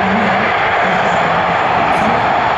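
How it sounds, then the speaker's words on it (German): An Italian Navy NH-90 naval helicopter, fitted out with submarine-search equipment, flies a display at the ILA Berlin air show. Its loud, steady broadband roar of engine and rotor holds throughout, with no voices. "Einsatzhubschrauber, voll ausgerüstete Einsatzhubschrauber der italienischen Marine mit U-Boot-Suchanlagen"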